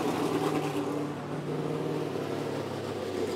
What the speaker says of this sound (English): You hear the engines fire in the background?